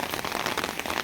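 Steady rain patters on nearby surfaces outdoors, a dense, even hiss of drops with no voices.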